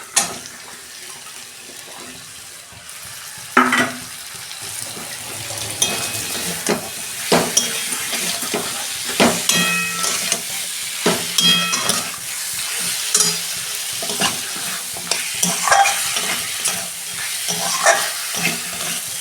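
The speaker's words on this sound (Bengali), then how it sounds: "আমি ভালো করে মাছের মাথাটা মশলার সঙ্গে ভালো করে কষে নেবো 2 মিনিট" Crushed fish head sautéed with spices for moong dal, stirring clatter and uneven sizzling up close, with splashes and knocks of a spoon against the pan over about twenty seconds.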